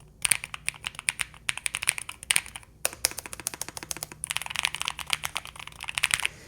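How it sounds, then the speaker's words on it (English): Typing on a Nuphy Air 75 V3 mechanical keyboard with sound-dampening inside, close and clear: bursts of rapid clicky keystrokes with brief pauses between runs, then a dense, steady stretch of fast typing at the end. "let you hear the sounds of these keyboard"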